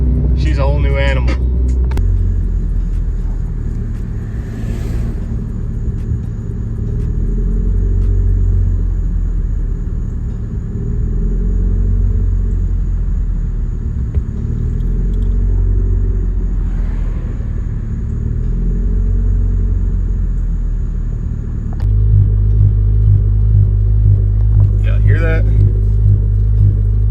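A Honda Civic EK engine idles low and smooth, a steady rumbling hum that holds throughout while a person talks over it, with a few brief clicks and a slight shift in tone near the end.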